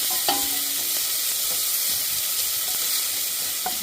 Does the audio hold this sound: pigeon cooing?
no